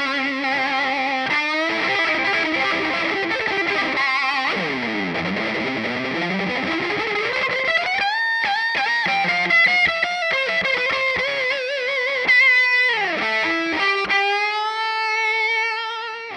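Electric guitar played through an effects-laden combo amp, an Ibanez TSA30 or Hiwatt T20, notes bending and sliding while a heavy wash of reverb smears them into a long, loud ringing haze.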